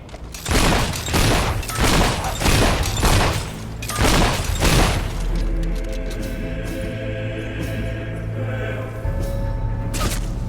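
Heavy gunfire and booms in the video game Fable III, a series of loud rhythmic blasts over several seconds, then a sustained rumbling mechanical drone with occasional thumps.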